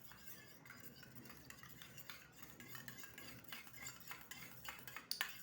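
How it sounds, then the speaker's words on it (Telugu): A spoon stirs curd and honey in a bowl, making faint, close, repeated scraping and clinking strokes at a steady pace, with no talk. "మంచిగా స్పూన్తో మిక్స్ చేసుకున్నాం."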